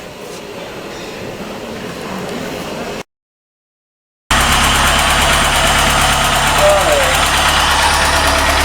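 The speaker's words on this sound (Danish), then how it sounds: "så belaster man starteren ved at trykke ned her, max i 10 sekunder" A vehicle engine's starter motor cranks under load during a generator test, making a loud, steady mechanical drone. A quieter stretch comes first, then a brief silence, and the heavy cranking roar continues to the end.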